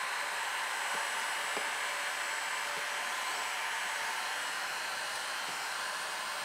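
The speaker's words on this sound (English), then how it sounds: "it all comes off with this heat gun. It just peels off, just warming up." A heat gun blows steadily up close to warm vinyl wrap on motorbike panniers, giving a constant, even airy roar with no breaks for the whole stretch.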